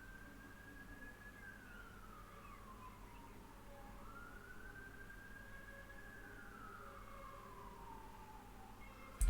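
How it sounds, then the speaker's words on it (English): An ambulance siren wails at a distance, rising and falling in slow sweeps through the whole stretch, fairly faint over a steady low background hum, with no talking. "That's my ambulance."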